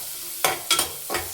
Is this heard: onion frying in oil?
yes